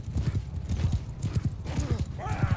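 Horse hooves clip-clop steadily in a Mount & Blade II Bannerlord battle, with a horse whinnying briefly near the end and someone talking over the hoofbeats.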